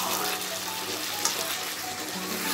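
Onions with spice mix in a pan, hissing in a dense continuous sizzle while being gently folded, close and steady with only a faint tap of the spoon and no speech.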